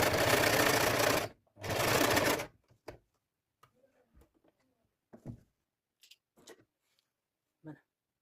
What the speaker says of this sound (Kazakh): Міне, осылай етіп тігіп аламыз.